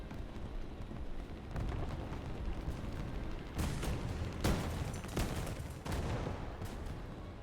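Four large bombs going off in War Thunder during a run of steady, rumbling battle noise, with several loud thumping blasts clustered toward the second half and no clear talk.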